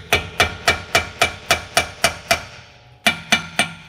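Metal tapping on the driveshaft pinion flange of a Ford Expedition during a rear differential repair, a run of sharp evenly spaced ringing knocks, a brief pause, then a few more, loud and close with no talk.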